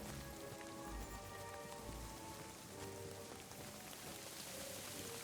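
Steady rain falls in the video game Kingdom Come: Deliverance II, a soft continuous patter on surfaces with scattered droplet ticks and a few low thumps, fairly quiet and with no talk.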